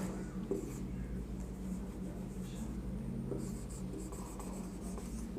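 A pen scratches steadily across paper as a chemistry definition is written out by hand, a continuous close scraping with small strokes, under faint background hum.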